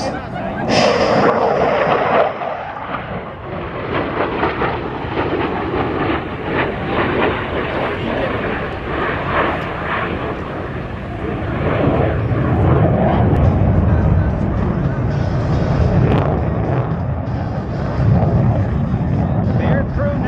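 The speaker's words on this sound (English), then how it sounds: "From your right, the inverted whisper pass." Airshow aircraft flying an inverted whisper pass, a broad jet roar swelling and holding across the pass under a public-address announcer's commentary.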